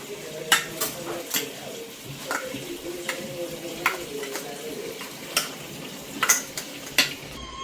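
Coloured tutti frutti pieces being stirred together in a bowl, giving a series of soft, irregular clinks and scrapes close by, with a low hum and faint murmur underneath.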